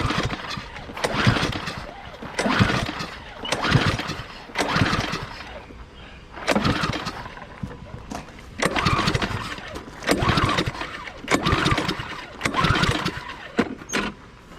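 A Cub Cadet lawn mower engine is pulled over repeatedly without starting, about eight loud rhythmic cranking bursts of a few seconds each, close by, with no catch or pop between them.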